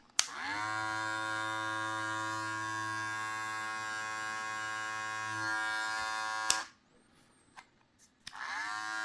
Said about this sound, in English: So this is the hair trimmer.